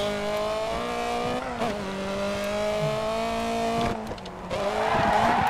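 Rally car in the racing game Dirt 3 sliding through a corner on a double handbrake, loud steady engine drone with a long tire skid and squeal, engine note rising again near the end.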